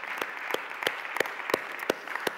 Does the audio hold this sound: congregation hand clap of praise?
yes